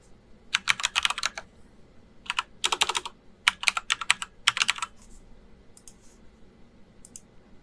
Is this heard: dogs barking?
no